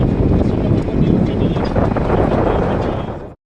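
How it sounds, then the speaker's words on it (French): A homemade motorcycle built by a young rider travels at just over 30 km/h on asphalt, making a steady, loud, close engine rumble mixed with heavy wind buffeting that cuts off abruptly. "Un jeune qui a fabriqué une moto."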